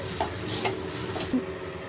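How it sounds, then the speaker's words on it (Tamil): Egg and bread being stirred in a pan for egg bread kothu parotta, soft scraping strokes with a few light clinks over a faint sizzle, fairly quiet and close. "இதை நல்லா கிளறி விட்டுக்கோங்க ப்ரெட்டோடு சேர்த்து"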